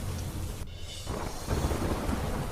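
Heavy rain falls with strong wind in a village in Gujarat, a dense continuous roar with gusty buffeting, near and steady without speech.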